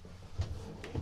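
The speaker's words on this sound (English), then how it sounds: "these marine grade baggage doors." A marine-grade baggage door on a 2024 Cortes 16 camper opens or shuts with two soft, close clunks about half a second apart, over a quiet background.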